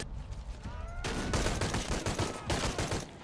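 Enemy gunfire in the video game Shadow of the Tomb Raider crackles as rapid bursts of shots, loud and continuous, over the game's ambient sound.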